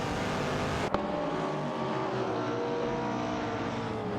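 Virtual race cars roar past on a video game track, a sustained engine drone with a sharp whoosh near the start as one car passes, loud and steady with no talk.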